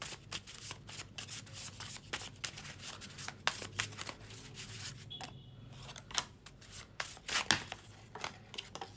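Tarot cards falling and being shuffled and handled at close range, with many soft, irregular clicks, rustles and slaps that come and go over several seconds, faint and without talking.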